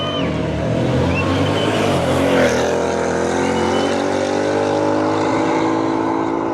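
Race cars roar through a finals shootout at the Simola Hillclimb 2025. A loud, sustained engine drone holds its pitch with slight rises and falls and stays close and continuous throughout.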